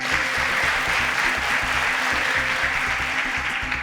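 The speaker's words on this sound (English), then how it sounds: "A round of applause for Sasha." An audience claps steadily and densely for a quiz show contestant, a sustained, even round of applause with no talking over it.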